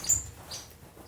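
Strawberry finches in an aviary give a single faint high chirp, brief and thin over a quiet background.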